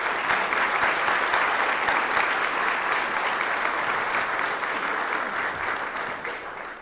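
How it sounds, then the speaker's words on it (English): An audience at a city's State of the City address gives a sustained round of applause, loud and dense, easing slightly toward the end. "Let's give them one more round of applause."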